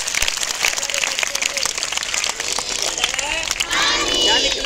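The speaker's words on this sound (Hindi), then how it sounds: "सब बच्चे जोर से क्लैपिंग यानी तालियां बजाएंगे" Schoolchildren at a school magic show clap loudly in a dense, continuous burst of applause from a large crowd, mixed with excited voices and shouting, growing more raucous toward the end.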